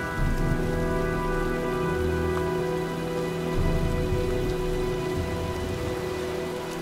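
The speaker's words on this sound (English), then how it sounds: "looks like a storm's coming" Steady heavy rain from a storm in the video game Heavy Rain, a dense continuous hiss with low thunder rumbling underneath, loud and unbroken throughout with no voices.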